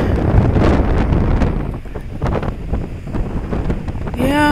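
Strong wind from Hurricane Lane blows along a coastline with palm trees and ocean nearby, battering the microphone in a loud, continuous roar of gusts; a voice begins speaking at the very end.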